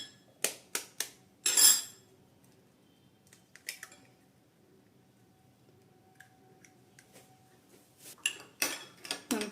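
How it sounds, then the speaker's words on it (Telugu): Eggs with spices being beaten in a mixing bowl, heard as irregular clinks and taps of utensil against the bowl, clustered at the start and end with a quieter gap between. "అంతా కలిసేలాగా బాగా బీట్ చేసుకోవాలి"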